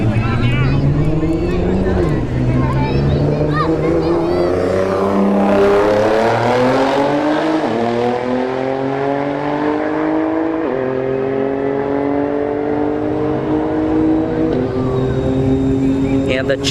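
Nissan GTR and Infiniti Q50 drag racing down a strip, engines revving and rising through gear changes, loud and close, with a shift-like dip midway and a commentator talking over the noise.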